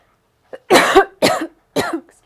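A person gives three sharp, close coughs in quick succession, with short gaps of quiet between them.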